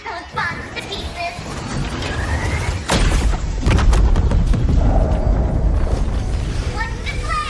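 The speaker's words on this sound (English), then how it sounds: "Let's blast those bombs to pieces!" Bombs blasting apart in Wuthering Waves combat, a series of heavy booming explosions and sharp impacts that grow louder midway, layered with clashing game effects and bursts of speech.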